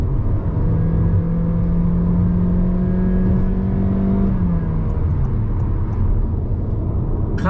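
A 2021 Honda Vezel accelerating, its engine and drivetrain rising in a loud, steady whine that climbs in pitch, then levels and settles near the end, heard from inside the cabin with no talking.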